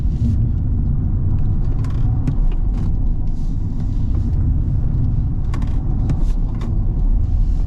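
A BMW i5 electric sedan braking hard on a road, with steady low tyre and road rumble filling the cabin and faint scattered clicks and creaks over the top.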